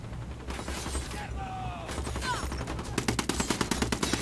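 Gunfire in the video game Ghost Recon Wildlands: scattered shots and mechanical clatter build into a rapid, rhythmic burst of automatic fire near the end, over a steady background with brief voices.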